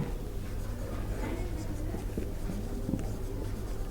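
Chalk or marker scratching out writing on a classroom board during a math lesson, steady and continuous at moderate level, with faint speech in the background.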